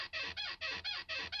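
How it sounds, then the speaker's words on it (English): Pitched bed squeak sound effect: a rhythmic run of about six bright, creaky springy squeaks in quick even succession, close and clean with no other sound. "like this pitched bed squeak"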